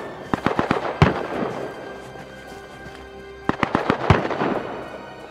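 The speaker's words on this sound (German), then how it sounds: "Das sind sehr viele Schüsse." Gunfire in the survival video game Rust comes in two clustered bursts of sharp cracks, a few seconds apart, with scattered single shots and a quieter gap between them.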